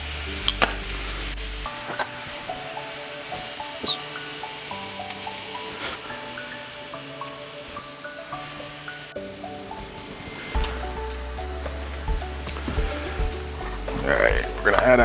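Food cooking in a pan gives a steady sizzle with frequent scraping and stirring strokes up close, mixed with background music.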